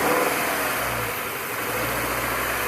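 A Subaru engine held at around 2,000 RPM gives a steady, loud, close mechanical hum with a smooth low drone and no pauses.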